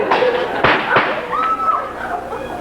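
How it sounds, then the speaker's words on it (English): A bomb explosion sound effect in a school play: a couple of sharp, loud bursts over ongoing stage talk and voices in a hall. "Be careful, that's a bomb!"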